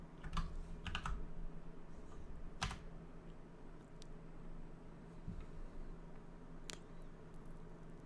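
Quiet, close keystrokes on a computer keyboard as a command is typed, a few scattered clicks and short bursts over a low steady background hum.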